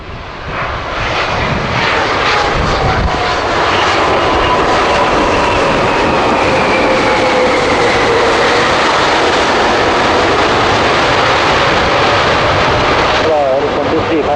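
Boeing 787-8 Dreamliner airliner at Kansai airport, a loud, steady jet engine roar that holds for the whole stretch with a faint whining tone gliding through it, and no voices over it.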